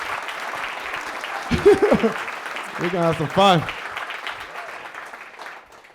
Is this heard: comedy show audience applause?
yes